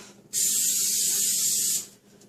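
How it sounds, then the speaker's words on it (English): Olive oil sprays onto a tortilla in a hot pan while a chicken quesadilla is being made: one steady, close hiss lasting about a second and a half, then silence. "I'm going to spray it with some olive oil."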